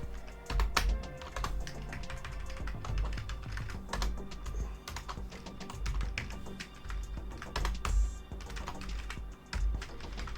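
Rapid clattering keystrokes on a computer keyboard sitting on the same table as the microphone, a dense, continuous run of close, loud taps with brief bursts and pauses.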